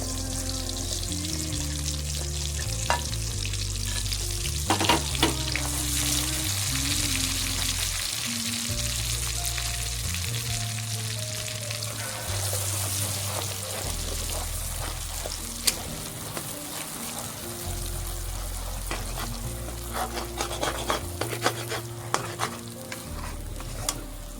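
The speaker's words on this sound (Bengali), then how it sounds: "এবার আমি দিয়ে দেব ঘিতে ডাল বাটা, ছোলার ডাল বাটা দিয়ে দেবো।" Chana dal paste frying in ghee for halwa: a steady, loud sizzle with repeated scraping and stirring in the pan throughout, with no voices.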